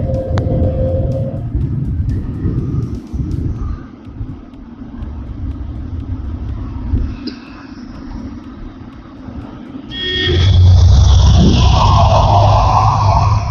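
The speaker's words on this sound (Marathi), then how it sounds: "या चाकण रूटला एवढी ट्रॅफिक असताना कंटिन्यू ट्रॅफिक, कंटिन्यू." Continuous road traffic on the Chakan route near Pune, a rumbling stream of passing vehicles heard from close by, with a deeper, louder engine swell building in the final few seconds.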